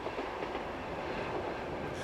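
Italian Class D445 diesel locomotive hauling a passenger train on Sardinia, a steady rolling rumble of wheels and rail noise with a low engine drone, moderately loud and without speech.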